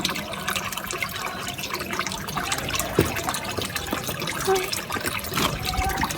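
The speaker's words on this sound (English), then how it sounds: "it's going to be nice fresh water, listen" Water runs and trickles steadily from a fountain spout in Casares, a mountain village in Spain, splashing with small drips and gurgles, fairly close and without voices.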